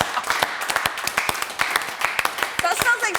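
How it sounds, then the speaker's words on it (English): A studio audience gives a sarcastic round of applause on a comedy show, a thin scattering of uneven claps lasting a few seconds with voices mixed in. "That sounds like such a sarcastic round of applause"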